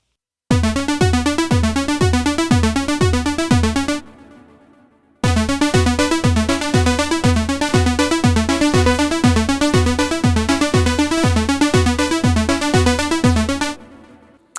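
A repeating modular synthesizer sequence pulses in a steady rhythm, pausing briefly before resuming, with bright layered tones and no voices.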